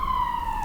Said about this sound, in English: Oh my god, ambulance